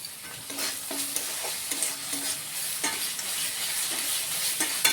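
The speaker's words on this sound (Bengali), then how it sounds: "মশলাটা এখানে আমরা কষিয়ে নেবো যাতে কাঁচা গন্ধটা না থাকে" Spice paste (masala) sautéed in a pan for a Bengali prawn curry, with a soft steady sizzle and occasional light scrapes of a spoon, close and alone.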